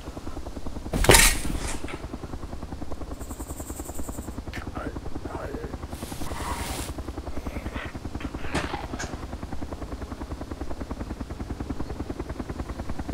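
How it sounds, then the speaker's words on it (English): Helicopter in the video game Arma 2 DayZ Overpoch approaching from a distance, a steady low rotor drone running throughout with brief voices and chatter over it. "Helicopter coming from the south."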